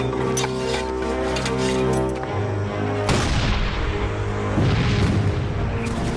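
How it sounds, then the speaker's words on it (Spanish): A Civil War cannon fires explosive shells, producing a deep booming blast with a long rumbling decay, followed by a second heavy report, loud and close. "Este cañón dispara proyectiles que explotan al impactar y obuses con metralla que revientan en el aire sobre la cabeza de los enemigos."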